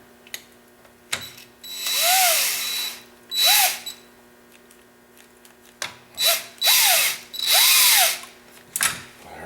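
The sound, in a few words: drill turning ATV transmission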